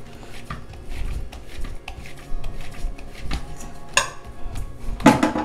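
In a kitchen making gul poli, a plate covers a bowl of kneaded dough. Soft knocks and shuffling handling sounds build to a clear metallic clink and a sharper clatter of the plate settling near the end.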